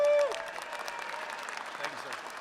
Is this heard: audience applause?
yes